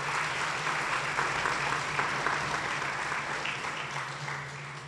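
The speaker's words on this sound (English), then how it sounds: "let's give the teen leaders a round of applause" An audience at a YMCA volunteer recognition event applauds teen leaders with steady, moderately faint clapping, under a low hum, fading slightly toward the end.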